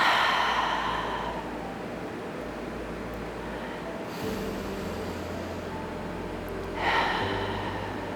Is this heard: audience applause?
no